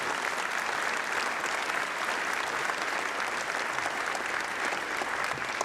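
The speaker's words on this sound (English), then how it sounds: "So let's give those two guys a round of applause." Sustained applause from a crowd gathered at a memorial service, an even wash of many hands clapping at moderate volume from start to finish.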